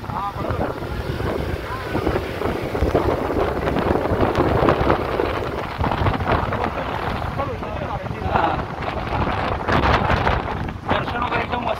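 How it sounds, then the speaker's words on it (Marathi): Heavy downpour of the season's first monsoon rain pours steadily around people sheltering under a tree, a dense, continuous roar with a gusty, wind-like rush and faint voices mixed in. "पाऊस एवढा जोरात आलाय आम्ही झाडाखाली थांबलोय"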